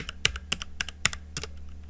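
Keys clack on a computer keyboard as a search term is typed into a game-building tool, a quick, uneven burst of sharp taps heard up close and alone.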